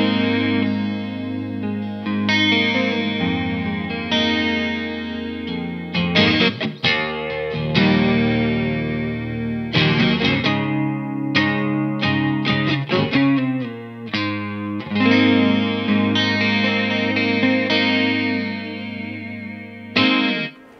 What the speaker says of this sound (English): This is the Candy Floss Chorus, and it's a chorus pedal